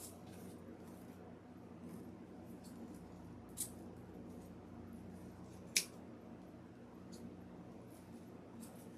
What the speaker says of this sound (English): We're going to trim the ribbon tails.